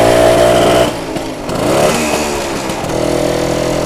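A 1967 BSA Bantam D10 175 motorcycle rides in close by, its small two-stroke engine buzzing loudly, dipping briefly and then climbing again through a gear change.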